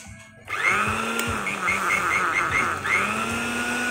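A Japanese countertop blender grinds dry rice into flour, its motor running steadily with a loud, close whirring whine and a gritty rattle of grains against the blade after a brief quiet start.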